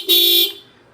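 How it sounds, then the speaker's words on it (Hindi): A Minda electric horn fitted to a Suzuki Burgman scooter gives one loud, close, bright beep lasting about half a second, then cuts off. "इसके बाद यहाँ मिल जाता है आपको हॉर्न मिलने वाला है आपको मिंडा का।"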